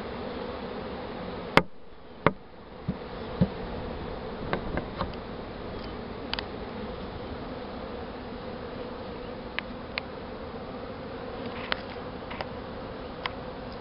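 A swarm of honey bees being hived hums as a steady insect drone throughout, with a few sharp knocks and taps scattered over it, close and unbroken, no voices.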